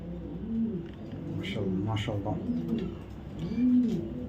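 Foreign racing pigeons coo in repeated low, throaty phrases at close range while someone talks over them.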